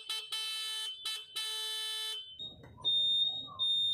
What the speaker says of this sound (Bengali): সর্বপ্রথম হর্নটা চেক দিচ্ছি